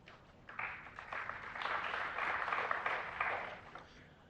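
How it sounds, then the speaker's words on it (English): Audience applause at a snooker semi-final between Shaun Murphy and Judd Trump at the Saudi Arabia Snooker Masters, a soft, fairly distant patter of clapping that swells and then fades over a few seconds. "Deserved applause, I think."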